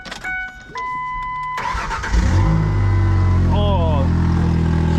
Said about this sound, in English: Let's give her a good old crank and see if she cranks.